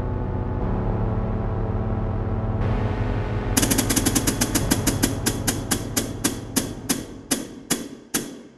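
Video game gunfire starts as a rapid automatic burst over a droning background. It then slows into single loud shots spaced farther and farther apart, each ending in a sharp decay.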